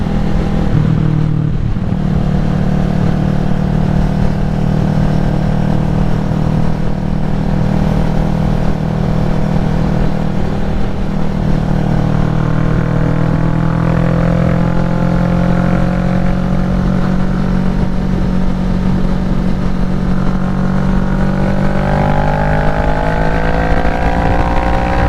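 A motorcycle cruises steadily on an open road, its engine droning with harmonic tones that rise toward the end, all under continuous loud wind buffeting, with no talk.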